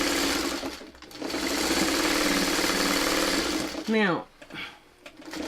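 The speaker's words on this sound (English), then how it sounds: "We're just going to sew this on, and it gets stuck every once in a while because my foot has too much pressure on it." Home sewing machine stitching quilt sashing with too much presser foot pressure, a fast close mechanical whir that runs steadily, stalls briefly with a whining pitch slide, then resumes, while someone talks over it.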